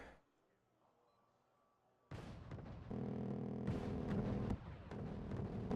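Artillery fire in a war video game bursts in after a hushed start, heavy booming blasts and rumbling impacts that stay loud and dense to the end.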